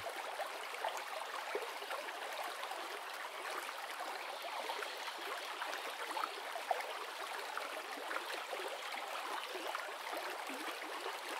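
Steady, gentle flow of river water, a soft continuous rush and trickle with faint gurgles, evenly sustained and fairly quiet throughout, with no voices.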